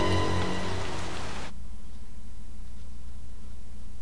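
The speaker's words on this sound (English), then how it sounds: "Oh, and, of course, it's dramatically raining," Steady rain in the video game Resident Evil 0 hisses in a broad wash, joined briefly by a denser burst of layered sound that cuts off abruptly, leaving the rain alone.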